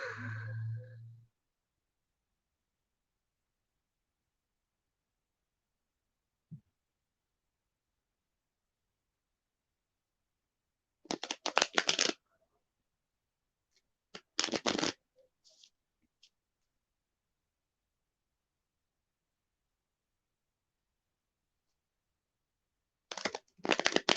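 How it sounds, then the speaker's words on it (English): Playing cards in a poker shuffle, heard as a few separate short riffling bursts with long silences between them, close and crisp, a brief voice sound at the very start. "All right, Benny, that was your third poker shuffle."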